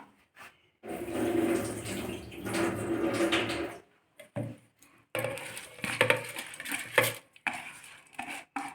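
Soaked rice is drained in a kitchen, with water splashing and pouring in two long bursts, along with clinks of a vessel handled close by and brief pauses between.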